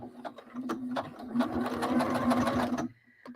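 A sewing machine runs in a steady burst of rapid stitching for nearly three seconds, close and fairly loud, then stops abruptly leaving a quiet hum.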